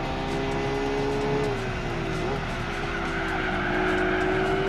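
A Honda NSX race car in Gran Turismo 4 runs laps at Motegi, its engine a steady, loud drone whose pitch dips and climbs as it shifts and corners, with faint tyre noise underneath.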